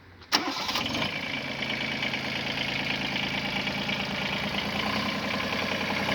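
The diesel engine of a Kubota GB130 mini tractor, with glow plugs on each cylinder, cranks and catches with a sharp start, then settles into a loud, steady clattering idle close by.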